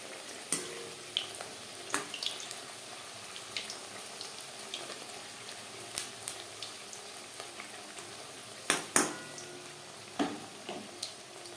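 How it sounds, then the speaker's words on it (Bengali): Papdi dough crisps deep-frying in hot oil in a wok for papdi chaat, giving a steady close sizzle broken by scattered sharp pops and crackles, with no talking. "কড়াইতে যতটা জায়গা আমার সেই পরিমাণে পাপড়ি ভাজবো"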